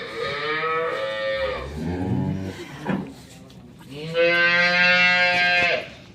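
A dairy cow on a farm moos loudly and nearby several times, long drawn-out lowing calls with a short pause between them.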